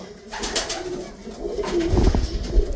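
Mookee pigeons at a pigeon farm coo in soft, repeated murmurs, fairly close, amid rustling and shuffling sounds from the birds and their surroundings.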